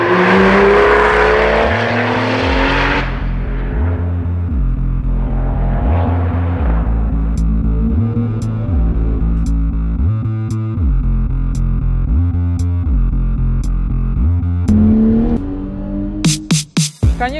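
A Porsche 996 GT2 sports car's engine drones loudly and continuously while driving, rising and falling in pitch through repeated gear changes, with a sharp rattling burst near the end.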